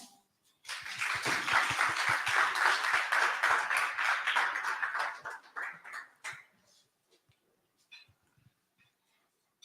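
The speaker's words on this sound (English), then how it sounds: "Another round of applause." Audience at a travel awards ceremony clapping together in a dense burst of applause lasting several seconds, then thinning to a few scattered claps before fading out.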